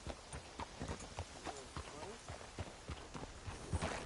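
Rhythmic clip-clop of a horse's hooves in Red Dead Redemption, steady and moderately close, running beneath a voice that speaks over much of the stretch.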